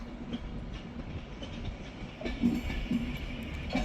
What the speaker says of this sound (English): now arriving again is going to be a terminating Avanti Westcoast service from London Euston